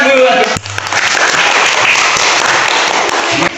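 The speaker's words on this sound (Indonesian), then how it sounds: "Tepuk tangan dulu." Classroom applause as students clap their hands together, a dense burst of clapping sustained for several seconds right after a teacher's call, fairly loud and continuous.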